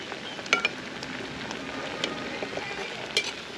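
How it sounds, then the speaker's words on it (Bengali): Pointed gourd peels cooking down in a pot as the water dries up, a steady soft sizzling bubbling with occasional small pops and stirring clicks, no talking. "পটলের খোসাটা সিদ্ধ করার শেষ পর্যায়ে"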